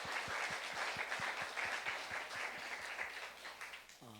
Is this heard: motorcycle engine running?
no